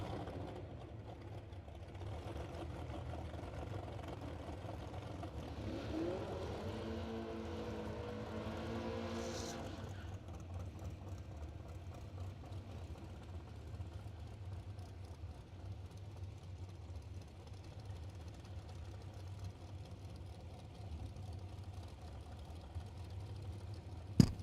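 At a drag strip's staging line, an S10 race car idles with a low, steady engine rumble. A rising rev climbs for a few seconds in the middle before settling back, with distant track noise around it.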